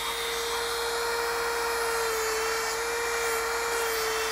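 Power tool chamfering the grip of a vintage bow: a continuous high-pitched whine at a steady speed, close and fairly loud, running without a break.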